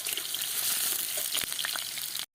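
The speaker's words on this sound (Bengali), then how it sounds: "আলুও লাল লাল করে ভেজে নেব" Potatoes frying in hot oil, a dense bright sizzle with crackling pops close by, cutting off abruptly near the end.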